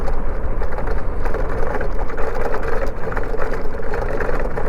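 A vehicle with a broken clamp weld driven over a stone road, a continuous loud rumbling engine drone with dense rattling and knocking from underneath, no talking.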